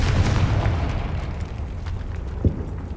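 Confringo fire-blast spell from the Hogwarts Legacy video game, a dull booming explosion with a brief sharp pop partway through, rumbling under steady background game noise.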